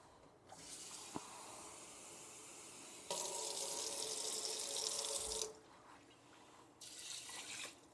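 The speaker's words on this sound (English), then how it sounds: "So I'm going to add a cup and a half of water." Water pours from a tap into a pot of rice in bursts, a bright hissing splash starting and stopping between quieter gaps, close by with no speech.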